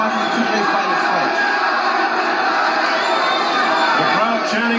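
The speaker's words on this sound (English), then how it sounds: "The crowd chanting for McGIRT." A large crowd at a WBC welterweight championship boxing match between James "Buddy" McGirt and Simon Brown chants and roars continuously, dense and loud throughout, with voices blending into the noise.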